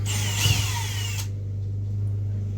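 A power drill driving screws whirs loudly for about a second, then stops, leaving a steady low hum and faint background noise.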